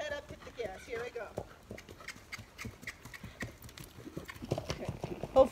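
Hooves of a Spotted Saddle Horse gaiting indoors beside a wall, a quick steady four-beat clip-clop close by, with a rider talking over it.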